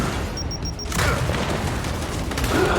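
A grenade blast in the Gears 5 video game erupts suddenly about a second in, a loud broadband boom followed by sustained rumbling, crackling chaos with game noise continuing underneath.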